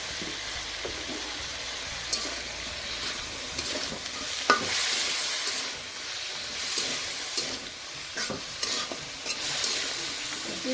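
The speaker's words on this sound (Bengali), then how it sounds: "ছোট আলু এইভাবে ভাজি করলে" Small potatoes fry in a pan and get stirred, with a steady close sizzle broken by repeated scraping strokes of the spoon.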